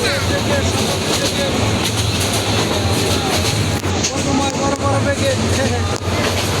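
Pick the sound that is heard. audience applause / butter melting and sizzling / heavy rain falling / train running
train running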